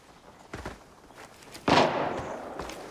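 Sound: scav gunfire in the video game Arena Breakout

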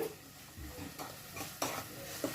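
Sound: ginger paste frying and being stirred in a pan

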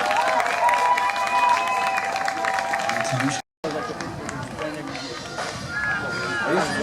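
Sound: crowd applause at American football game

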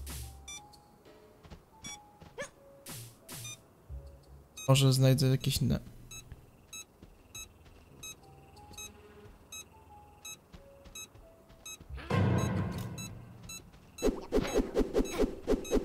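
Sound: alarm beeping in video game Supraland

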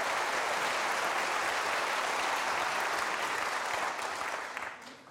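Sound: audience applause, encouraging

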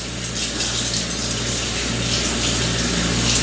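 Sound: rinsing a washcloth under running tap water

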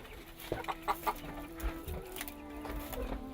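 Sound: chickens clucking

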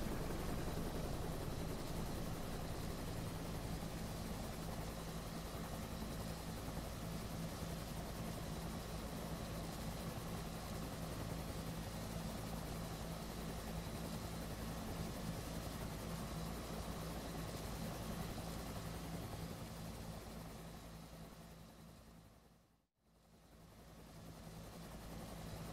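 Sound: helicopter landing in video game DCS World

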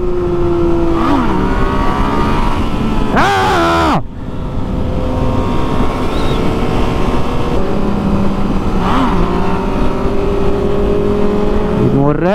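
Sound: motorcycle engine revving during wheelie attempt

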